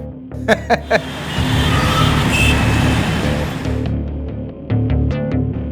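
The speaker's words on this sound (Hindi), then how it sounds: "इतना ट्रैफिक जाम लगता है" Steady road traffic rumbles through a jammed street with idling and passing vehicles, a broad continuous roar punctuated by a few sharp honks or clicks near the start and end.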